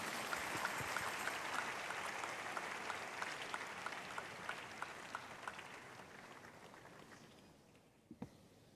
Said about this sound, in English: Church, please clap for Jesus for that.